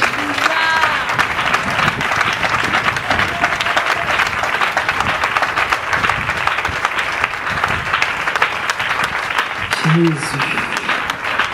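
A church congregation applauds during a Sunday service, with dense, steady clapping and crowd noise filling the whole stretch and voices and shouts mixed in.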